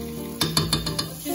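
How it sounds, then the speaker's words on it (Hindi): Ginger garlic paste sizzles in hot oil in a pot, a soft frying hiss with about four quick spoon taps and scrapes close by. "तेल हमारा गरम हो गया है, अब इसमें एक स्पून भर के जिंजर गार्लिक पेस्ट डालेंगे"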